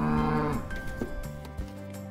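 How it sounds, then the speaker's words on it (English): A cow lets out a single long, low moo that fades away, followed by softer rustling, with no other voices. "And this is a cow. C for cow. Moo, moo."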